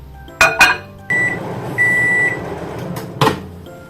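Microwave oven frying garlic for three minutes: door clunks open and shut, a steady running hum fills the middle, and two clear electronic beeps ring out, then another door clatter near the end, all close by with no talk.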